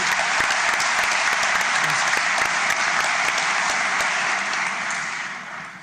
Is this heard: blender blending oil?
no